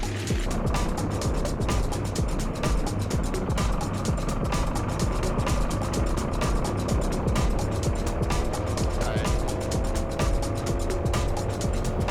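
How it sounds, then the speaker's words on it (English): Racing karts run hard on track in a final-round championship race, with a dense, continuous buzz of high-revving small engines, rising pitch sweeps as karts pass, and steady loud roar throughout. "There's Potts using his body as much as he can to get the kart to turn."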